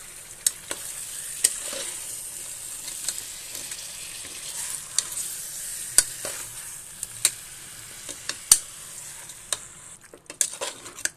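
Farm (layer) chicken curry being stirred and mixed in a pan, with a steady soft sizzle under a string of sharp spoon scrapes and clacks spaced irregularly throughout.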